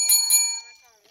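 A special bell item dropping in a video game: a bright, high chime rings twice in quick succession and then fades over about a second, with faint voices underneath.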